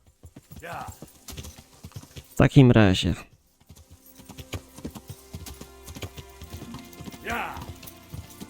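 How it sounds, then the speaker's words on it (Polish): A horse being ridden in Kingdom Come: Deliverance gives rhythmic clip-clop hooves on a path, steady and fairly close, with someone speaking briefly over it and a short horse snort or whinny partway through. "w takim razie siadamy na konia"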